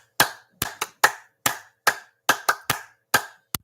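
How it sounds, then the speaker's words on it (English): Scattered hand claps ring out in a sparse, uneven rhythm, about a dozen sharp separate slaps from a small audience, close and clear with silence between them and no voices. "Ogiso Eri, give him a hand of applause."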